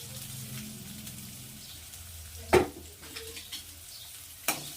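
Chopped onions fry in a pan with a soft steady sizzle and light stirring, broken by two brief louder scrapes or clatters, close by and without talk.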